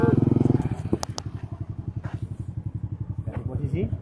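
A motorcycle engine putters in a steady, throbbing rhythm close by, with a few sharp clicks and clatters over it; a voice speaks briefly over the running engine.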